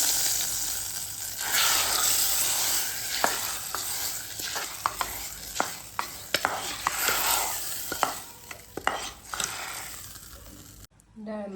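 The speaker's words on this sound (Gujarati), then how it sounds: "આમાં લસણવાળી ચટણી, જીરું, રાઈને હિંગને નાખી દીધી છે." A tempering of garlic chutney, cumin, mustard seeds and asafoetida crackles and sizzles in urad dal, with loud hissing bursts and sharp metallic clinks of a spoon against the pot.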